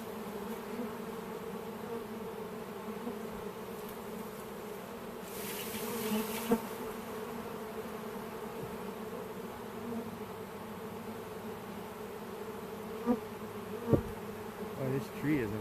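A honeybee swarm buzzes steadily around a hive box near a tree, a dense, continuous drone that holds close and even throughout, with a few brief louder bursts near the end.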